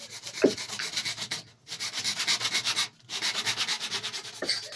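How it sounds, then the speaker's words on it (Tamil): A pipe for a bathroom water line being cut, with steady rhythmic rasping strokes like a hacksaw working through it, pausing twice briefly before resuming, close and fairly loud. "அளந்துட்டு பைப் அறுக்க போகிறோம் பாருங்கள் பைப்பு கட் பண்ணிடுவோம் பாருங்கள்"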